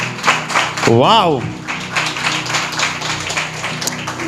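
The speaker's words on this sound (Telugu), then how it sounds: "let's give a clap offering to father" A church congregation at a Telugu sermon claps together as an offering to God. The applause is a fairly loud patter that runs under a preacher's voice and an excited exclamation.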